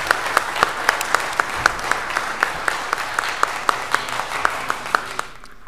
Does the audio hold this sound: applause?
yes